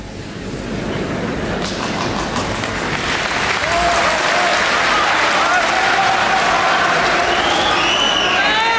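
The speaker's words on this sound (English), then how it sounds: "there should be no clapping for this" A large audience at a religious debate breaks into sustained applause mixed with some cheering, building from a scattered start into a loud, continuous roar, with a voice speaking over it.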